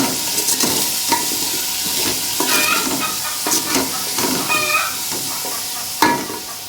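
Onions sizzle in hot oil in a pan where okra was just fried, with a busy, continuous hiss broken by repeated scraping and clinking stirs of a spoon against the pan, close and fairly loud.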